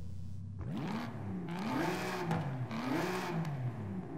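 A V12 engine in the driving game Forza Horizon 5 rev up from idle and swell repeatedly in smooth, loud waves, with no voices over it.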